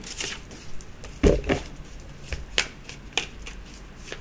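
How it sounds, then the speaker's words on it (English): Tarot cards riffled and shuffled by hand, a few sharp papery snaps and flutters in short bursts, close and fairly crisp with no talking. "Another shuffle here."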